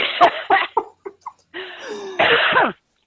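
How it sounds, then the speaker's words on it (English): Several sharp bursts of coughing up close, a quick run of harsh hacks followed by longer rasping, throaty coughs. "I'm already coughing"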